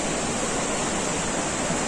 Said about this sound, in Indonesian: Dan di situ nanti kita bertemu air terjun Langkui Tinggi.